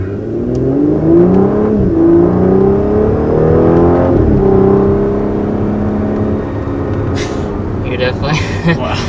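A 2019 Audi S4 Black Optic engine revs and pulls steadily under acceleration on a country road, rising harmonics sweeping up and down close by, with a voice talking throughout.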